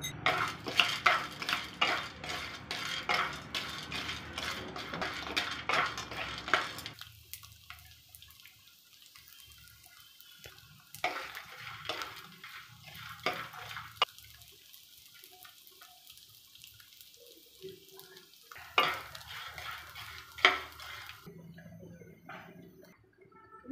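Edible gum frying in ghee in a kadhai and being stirred with a spoon: dense clinking and scraping of metal for several seconds, then quieter sizzling broken by occasional clanks of utensil against the pan.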